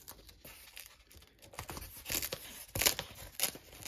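A close, crinkly tearing and crackling of insulation as it is peeled off the temperature sensor inside a Samsung refrigerator, growing louder toward the end with a few sharper rips.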